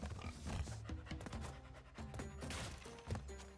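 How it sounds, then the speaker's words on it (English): A hog in the video game Crash Bandicoot giving dog-like panting grunts, several short rhythmic huffs mixed with game music and effects, fairly quiet throughout. "That hog sounds like a dog."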